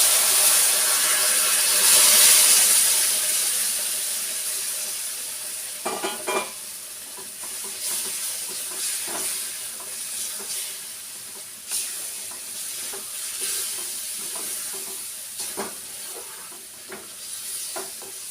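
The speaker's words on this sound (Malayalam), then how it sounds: "നമുക്കിനി ഈന്തപ്പഴം നമുക്കിതിലേക്ക് തട്ടിക്കൊടുക്കാം." Dates tipped into a hot pan of spiced frying mixture sizzle steadily while a utensil stirs and scrapes in repeated strokes, the hiss starting loud and settling lower beneath the clinks.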